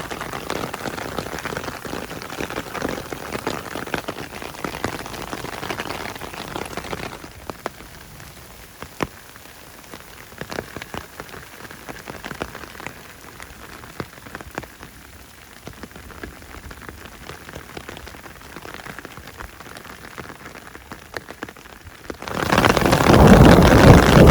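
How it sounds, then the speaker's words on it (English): Heavy hail pelts down on a Pacific Crest Trail hillside, a dense steady patter of countless tiny impacts that eases for a while and then swells much louder at the end, with no talking. "Can you see how heavy it's coming down? It's hail."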